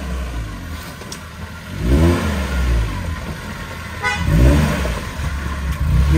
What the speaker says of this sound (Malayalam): നമ്മുടെ രണ്ടാമത്തെ ജിപ്സി വരുവാണ്